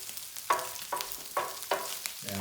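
Mushrooms cooking in liquid in a fry pan give a soft, quiet sizzle, broken by several sharp scraping stirs that come at a roughly steady rhythm.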